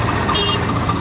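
A tractor engine, likely a Swaraj 855 or a Solis, running at full power while towing another stuck tractor with a chain, a loud steady low rumble close by.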